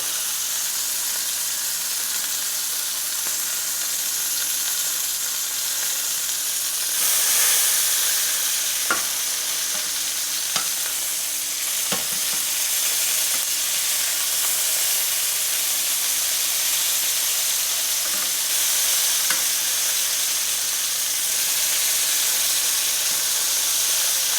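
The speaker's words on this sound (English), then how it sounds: "We're just gonna sear around the edges for about a minute or 30 seconds or so. Just looking for a nice little char." Meat sears in a hot pan with a steady, loud, bright sizzle and hiss throughout, briefly swelling when the food is moved, with a few faint clicks and no speech.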